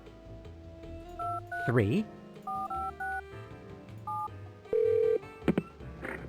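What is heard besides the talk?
telephone keypad dialing in Spy Fox video game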